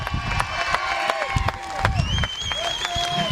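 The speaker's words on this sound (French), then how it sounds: "Un tonnerre d'applaudissements pour Monsieur Mehdi" Crowd applauding and cheering for a second-place finisher stepping onto the podium at Saint-Georges-de-Montaigu, steady clapping mixed with scattered whistles and voices, close and continuous throughout.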